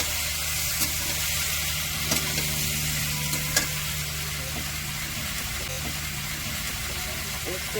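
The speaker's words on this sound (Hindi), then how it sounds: "और प्याज को थोड़ा सा भूनते हैं।" Onions fry in a pan for chicken rice, giving a steady close sizzle with occasional stirring scrapes and clicks. Someone speaks over the cooking.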